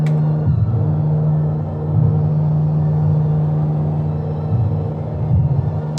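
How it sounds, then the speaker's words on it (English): Landing gear retracting on a Carenado M20R Ovation in Microsoft Flight Simulator 2020, a steady low mechanical hum over the cabin engine drone, with soft rumbling surges and clunks as the gear moves. "Honestly, this gear up sound is one of my favorites."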